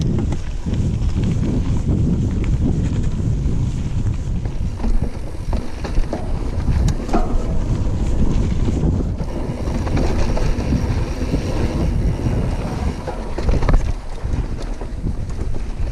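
A Pivot Mach 5.5 Carbon 27.5-inch trail mountain bike ridden on a Moab trail: steady loud wind buffeting over low tire rumble and occasional rattles and knocks, with no talking.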